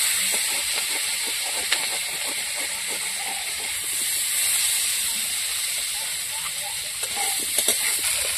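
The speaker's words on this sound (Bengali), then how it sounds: "ভালো করে ভেজে নেবো আলুটা। তেল দিয়ে দেবো, সরষের তেল।" Potatoes frying in mustard oil, a steady broad hiss of hot oil running throughout at moderate level, with faint scattered clicks and no voices.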